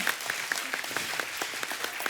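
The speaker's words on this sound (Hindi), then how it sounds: "एक बार जोरदार ताली हो जाए" A studio audience breaks into steady, dense applause, many hands clapping evenly throughout, fairly loud with no talking on top.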